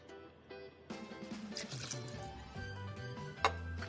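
Sweet vermouth for an Americano cocktail trickles into a glass in a thin, close pour, liquid gurgling and dripping softly, followed by a small clink near the end.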